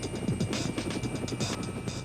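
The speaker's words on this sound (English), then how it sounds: "Fortunately, the chopper is on his case." Police helicopter overhead during a car chase, its rotor producing a rapid, steady thudding pulse with a whining hum, fairly close and continuous.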